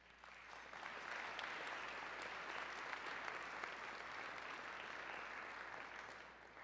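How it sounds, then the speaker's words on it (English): City Club audience giving a warm round of applause, a broad continuous wash of many hands clapping that swells early, holds steady and tapers slightly at the end, heard from a distance and fairly faint. "Please join me in a warm round of applause for all of them."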